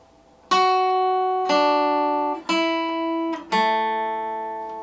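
Four slow, deliberate plucked guitar notes from a song, moving from the 6th to the 4th string, ring out one after another, each sustaining and fading before the next, played alone and close.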